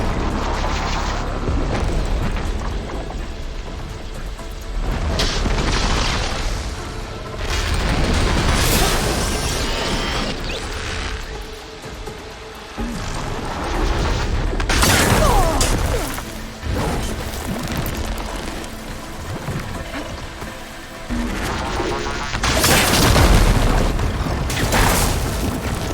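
Repeated explosions rain down as Zoe lays supporting fire in the video game Horizon Forbidden West: heavy booms and crashes arrive in waves every few seconds over a constant rumbling battle bed.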